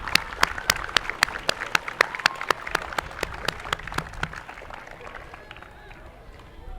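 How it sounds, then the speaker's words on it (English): Audience at a grand opening ceremony for Henrico PAL claps in a sharp, even rhythm that carries clearly for about four seconds, then fades out to a low room murmur. "Give yourself a big round of applause."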